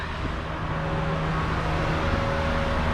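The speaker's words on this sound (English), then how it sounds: "past a noisy bus" A noisy bus passes on a town street in Dunstable, Bedfordshire: a steady, loud engine drone and road rumble with a low, even hum that holds for the whole stretch.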